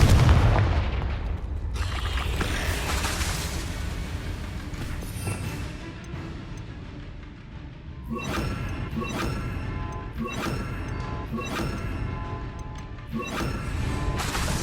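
Confringo spell explosions in the video game Hogwarts Legacy burst out as loud crashing booms. A heavy rumble at the start gives way to a quick run of separate, punchy blasts near the end.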